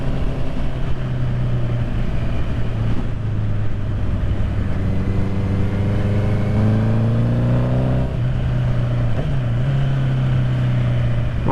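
A 2021 Honda CB650R motorcycle engine drones steadily, then revs climb sharply toward the rev limiter before the pitch suddenly drops and stutters. The engine noise is loud and continuous throughout.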